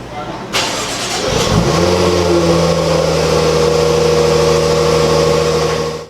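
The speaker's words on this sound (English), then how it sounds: "you're going to hit lock 1, 2, 3 times, and you'll see the vehicle start." A 2017 Jaguar F-Pace fires up via remote starter: a brief cranking burst, then the engine catches and flares before settling into a steady, close idle hum.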